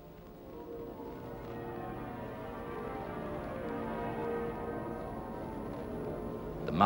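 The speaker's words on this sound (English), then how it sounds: "Muffled bells of St. Paul's, rung by the ancient society of college youths, the bell ringers of the cathedral, ring out now high above the church over London." Muffled church bells of St. Paul's Cathedral in London, rung by its bell ringers during a state funeral, sound as a soft, dampened, sustained peal heard from a distance, without talk.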